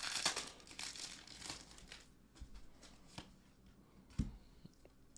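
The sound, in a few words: opening Pokémon card booster packs, foil wrapper crinkling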